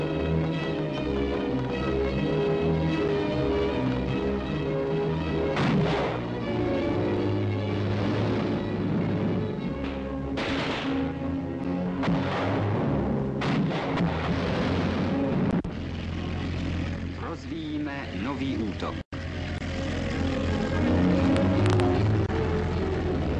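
Artillery fire in a Czechoslovak army training exercise in Britain, heavy booming blasts and bursts rolling over a continuous loud rumble of engines and battle noise, sustained throughout with no speech.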